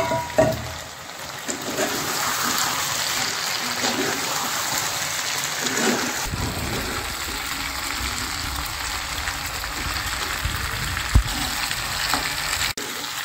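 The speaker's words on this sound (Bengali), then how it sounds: "চিকেনটা আমি 5 মিনিট ভেজে নেবো এভাবে ভালো করে।" Chicken frying in a pan with onion, tomato, ginger paste and garlic paste gives a loud, continuous close sizzle with stirring scrapes and an occasional sharp clink, with no one talking.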